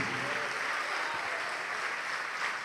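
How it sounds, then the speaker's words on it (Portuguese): Steady, dense applause from a church congregation during a Portuguese-language sermon, a continuous wash of clapping filling the room with no pauses. "E vamos aplaudir mais,"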